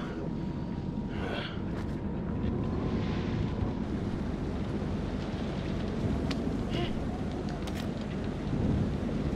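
A thunderstorm rolls on in the horror game Man of Medan, with steady rain hiss and low rumbling thunder, a few faint brief sounds surfacing over the constant wash.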